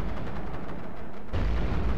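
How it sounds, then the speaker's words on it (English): Loud explosions from bomb and artillery strikes in the strategy video game iBomber Defense, a dense, continuous rumble of booming blasts that swells louder partway through, with no talk. "God, those explosions are loud."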